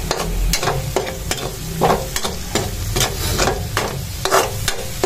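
Argentina corned beef and potatoes sauté in a pan, giving a loud, steady sizzle broken by rhythmic scraping stir strokes, close and without talk.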